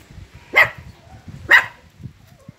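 A dog at a home garden barks twice, sharp and moderately close, about a second apart, with faint background noise and no talking.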